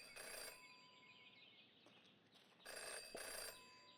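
A telephone in the Jenny LeClue video game rings in two electronic bursts separated by a pause, set against a faint ambient background.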